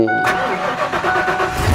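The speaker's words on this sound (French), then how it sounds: "démarre gentiment le moteur" The engine of a dumper cranks briefly and then catches, settling into a close, steady mid-pitched running sound.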